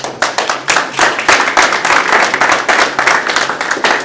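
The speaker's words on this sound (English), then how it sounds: "Please, no applause." A crowd claps at a city council meeting in Coeur d'Alene, a dense burst of many hands applauding steadily and loudly for several seconds, close in a room with no voices over it.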